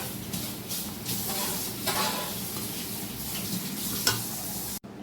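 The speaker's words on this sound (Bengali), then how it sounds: "ভালো করে এটা মিক্স করে নেব।" Fried vegetables for festive fried rice are stirred with a spice mix in a sizzling pan, a spoon scraping and tapping over a continuous close hiss of frying.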